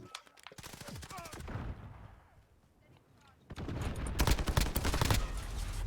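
Bursts of rapid SMG gunfire in Call of Duty Modern Warfare 2019, loud close volleys that break off into a brief lull, then return in heavier sustained fire.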